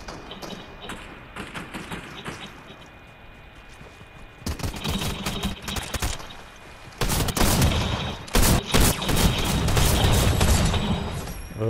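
Rapid bursts of gunfire in the Fortnite Chapter 3 Season 2 battle royale, scattered shots building into dense, loud volleys of clustered cracks and thuds, close by and sustained toward the end.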